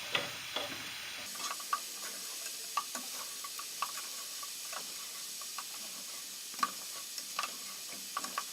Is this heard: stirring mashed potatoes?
yes